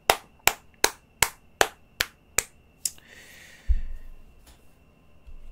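Eight crisp, evenly spaced hand claps ring out close and alone, followed by a brief rustle and a soft thump.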